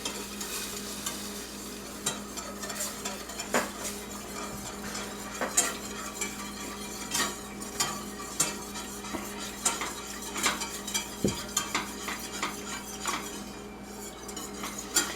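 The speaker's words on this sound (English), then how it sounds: "if you're using the metal whisk like I am" A metal whisk stirs eggs in a pan during breakfast pizza prep, giving steady scraping and clinking with sharp metallic taps against the pan over a faint sizzle, close and continuous throughout.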